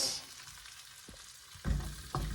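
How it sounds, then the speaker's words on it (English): Asparagus fries in a pan with a steady faint sizzle, broken by a few soft knocks and scrapes as the spears are moved, and there is no talking. "So we are going to fry it until it is, you can pierce with the fork and it's cooked"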